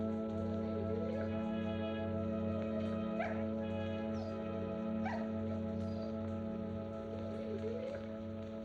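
A dog yips and whimpers several times at a distance, in short scattered calls under a steady low hum and background noise.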